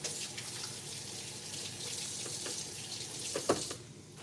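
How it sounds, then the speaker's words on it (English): Kitchen tap water running steadily into a sink while hands are washed, with a few splashes near the end; close by and moderate in level, without voices. "Let's wash our hands."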